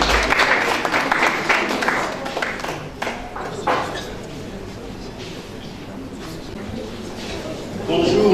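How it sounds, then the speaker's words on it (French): An audience at a pharmacists' ceremony in Katanga applauds a comedian. A dense burst of clapping fades over several seconds, and voices carry on underneath and after it. "Je vous demande de l'applaudir pendant qu'il est en train de venir."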